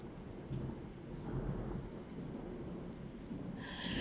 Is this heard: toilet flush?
no